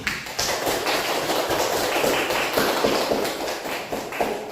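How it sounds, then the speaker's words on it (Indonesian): A classroom of students claps for two classmates, a dense close patter of many hands that continues steadily for a few seconds. "Kasih aplaus untuk kedua temannya"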